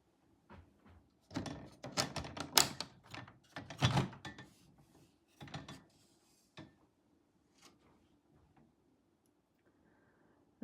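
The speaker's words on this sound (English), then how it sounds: "let me open up the doors so you can see the inside." The small hinged doors of a doll's house are opened, giving a quiet run of light wooden clicks, taps and knocks, irregular and close, with near silence between them.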